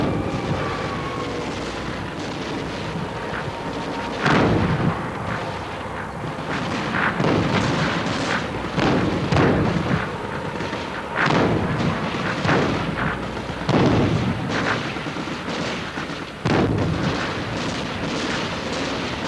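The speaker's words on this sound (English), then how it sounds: "Volleys of 82mm shells were lobbed into the hills ahead of where intelligence sources had indicated an enemy presence." Repeated heavy booms of 82mm mortar shells fired in volleys into hills, coming in irregular clusters over a constant rumbling background, fairly distant and reverberant.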